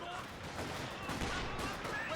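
Sustained Vickers machine gun fire in a Company of Heroes 2 battle, a dense continuous rattle of rapid shots, with a voice talking over it.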